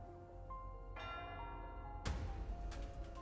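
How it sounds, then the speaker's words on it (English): Bell chime in the video game Wuthering Waves: one clear ring with a long sustained tone, then a stronger struck peal that decays over a continuous game soundscape. "It's a bell."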